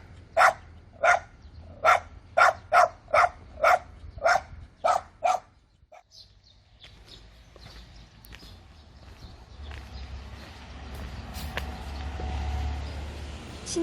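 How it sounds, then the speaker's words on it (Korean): A village dog barks about ten times in a steady series along a rural farm path, the sharp barks fairly close, then falls quiet, leaving a low outdoor background with faint rustling. "강아지가 놀랐는지 많이 짖네요."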